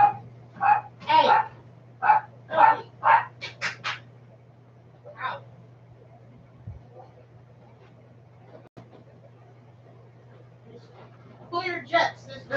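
A dog barks indoors in a quick series of about eight sharp barks over a low electrical hum. A pause follows, then a few more barks close by at the end.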